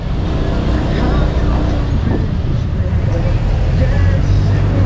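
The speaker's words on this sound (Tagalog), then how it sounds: "sobrang traffic" Heavy road traffic on a congested route in Taliptip, Bulakan, Bulacan: a steady, loud rumble of cars, buses and trucks idling and moving close by, with voices talking over it throughout.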